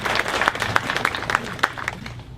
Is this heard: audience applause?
yes